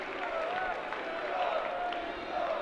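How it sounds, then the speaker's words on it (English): A university football crowd at the Cathedral Cup match between Bishop Grosseteste and Lincoln, faint distant cheering and chanting rising and falling under a commentator's voice. "And the crowd cheer his name."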